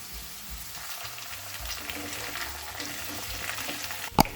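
Green beans added to potatoes and onions frying in an Indian aloo beans sabzi, giving a steady close sizzle with stirring scrapes and a sharp clatter of utensils near the end.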